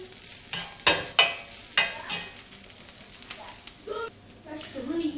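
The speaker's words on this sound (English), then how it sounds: "I like my onions quite well done, so I'm just going to carry on cooking them for a bit longer." Onions fry in a pan with a low sizzle, broken by several sharp utensil clacks and scrapes as they are stirred, close by and with no one talking.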